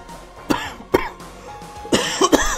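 A few separate coughs and throat clearings come close and fairly soft, spaced out with short pauses, and the last two come in a quicker pair.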